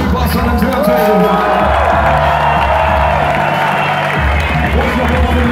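A large concert crowd in Munich applauding and cheering loudly, with whoops over a dense wash of clapping and some voices mixed in.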